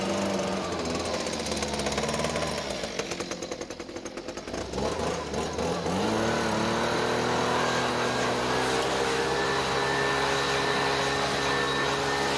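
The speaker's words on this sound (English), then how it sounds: "I'm going to grab my leaf blower and just clean that up a little bit." A leaf blower roars loudly and steadily at close range while blowing dust off the engine of a 2004 Subaru with the H6 motor, its pitch dipping briefly as the airflow shifts, then holding a constant whine.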